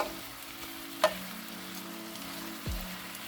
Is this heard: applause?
no